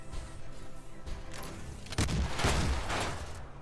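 Weapons firing in the steampunk mech game Ironcast 1886, a rapid volley of booming, artillery-like shots, moderately loud, building to a heavier cluster of blasts midway and continuing as a sustained barrage.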